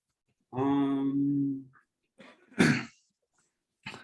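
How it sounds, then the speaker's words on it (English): A drawn-out vocal sound with a rough, strained tone, then a short breath and a sharp, explosive cough, followed by a brief gasp. "I coughed wrong"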